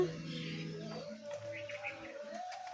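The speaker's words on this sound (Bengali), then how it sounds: "ঘুঘু পাখি" Soft, low cooing of a dove comes in repeated mellow notes, faint against quiet background noise.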